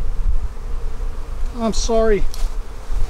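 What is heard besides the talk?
honey bees buzzing at hive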